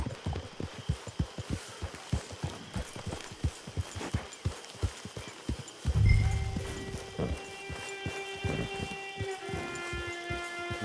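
A horse in the video game Detroit: Become Human walks with a steady, clear clip-clop of hooves for several seconds, then stops with a heavy snort as sustained tonal game music swells.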